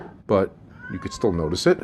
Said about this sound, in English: that's my cat that you're hearing in the background